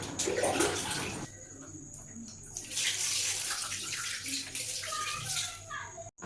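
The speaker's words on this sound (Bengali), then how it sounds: "চলো এবার ভালোভাবে পাটা ধুয়ে নিই" Running tap water splashes and pours as feet are washed, a close, steady rush with some shifting and scrubbing through the middle and a brief pause near the end, with no talk.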